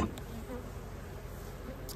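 Honey bees drone steadily in a queenless hive, a dense continuous buzz held close and even throughout with no voices.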